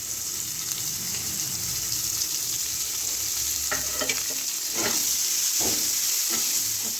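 Finely chopped onion sizzling in hot oil with whole spices and two bay leaves for a katla fish kalia, a steady hiss broken by a few scraping stirs of the spatula near the end.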